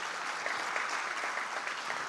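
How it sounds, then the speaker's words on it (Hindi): Steady applause from an audience at the opening ceremony of a Pakistani literature festival, dense clapping that holds at an even level throughout with no speech over it. "इनके लिए तालियां होनी चाहिए।"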